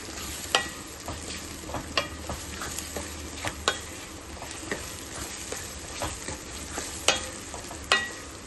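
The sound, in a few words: sautéing chopped brinjal with onion and tomato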